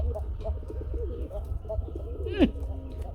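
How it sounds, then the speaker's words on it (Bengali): Pigeons coo repeatedly in low, throaty warbles over a constant background rumble, with a sharper wingy flutter near the end. "ডাকের কবুতর আপনি যেখানেই নেন না কেন ডাকবেই"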